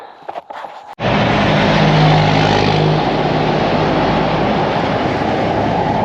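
The Out and About Adventure Van starting off and driving, a sudden loud, steady roar of engine and road noise that holds constant after a brief rustle, close and alone without talk.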